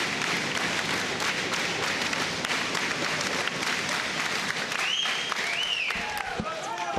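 Sustained applause from an arena crowd at a British Army 3 Para versus US 82nd Airborne boxing match after the final bout, dense steady clapping with a few whistles and shouts near the end.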